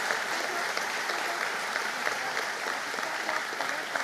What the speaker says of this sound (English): give a round of applause from all the graduates